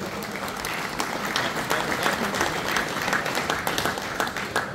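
Sustained applause from a crowd at a regional championship awards ceremony in Westphalia, a dense, even roar of many hands clapping, loud and continuous with no break.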